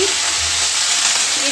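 Chopped onion drops into hot oil in a kadhai, setting off a loud, bright, continuous sizzle that stays close and steady for the whole brief moment, with no talking over it.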